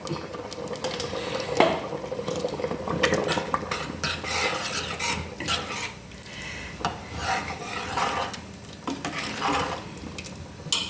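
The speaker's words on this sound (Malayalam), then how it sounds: "ഇപ്പോൾ ഇതേ നമ്മുടെ സാമ്പാർ നന്നായിട്ട് തിളച്ചിട്ടുണ്ട്" Steady bubbling of a pot of sambar simmering, with scraping and clinking of a spoon stirring, continuous and close throughout.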